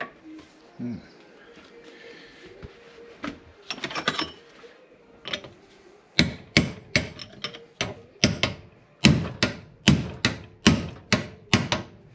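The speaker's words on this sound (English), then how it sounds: "I have to get the hammer on it. Give it a splat." Sharp hammer blows ring out during an engine swap of a VW 1.9 TDI into a Honda Civic, sparse at first then a quick series of loud strikes, with faint shuffling in between.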